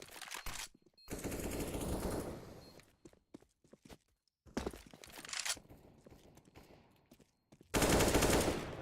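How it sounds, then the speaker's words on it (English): Automatic AK rifle fire in a Counter-Strike: Global Offensive match on the Cache map, heard as loud bursts of rapid gunfire separated by gaps, with a sustained volley near the start and another at the end. "Favin does a little bit of damage with that salvaged AK."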